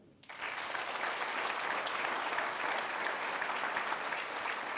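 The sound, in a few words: audience applauding at a ceremony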